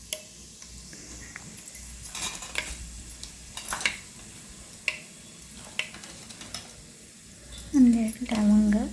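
Whole spices sizzle gently in a pan as rice preparation begins, a faint frying hiss under intermittent stirring clicks and utensil taps, ending with a short burst of speech.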